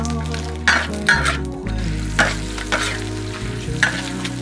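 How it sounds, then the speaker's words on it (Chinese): Cured pork stir-fried in hot oil in a wok, a steady loud sizzle broken by repeated scraping clatters of the spatula against the pan, with no talking. "油辣了，先把腊肉炒哈"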